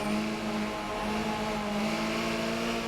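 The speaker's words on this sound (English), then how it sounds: "And you hear Storm getting off the throttle, keeping the car on the asphalt" Race car engine in the Forza video game on a figure-eight circuit, held at a steady sustained drone with a strong tonal whine and no voices.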